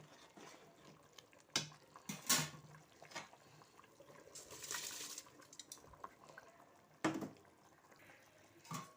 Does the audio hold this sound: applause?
no